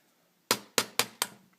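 Four sharp metallic hammer taps drive a push pin out of a JC Higgins Model 20 12-gauge shotgun, struck in quick succession with short ringing decays, close and clear in a quiet room.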